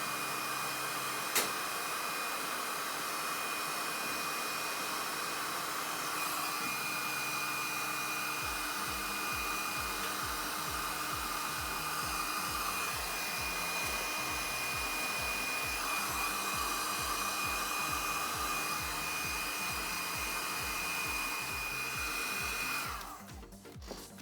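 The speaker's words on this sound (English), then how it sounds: "we're just going to chuck some dual wall heat shrink on there with the heat gun" A heat gun shrinks glue-lined dual-wall heat shrink onto a battery cable being repaired on a Mazda RX-7 FD3S, a steady loud blowing whine running continuously for about twenty-three seconds before cutting off.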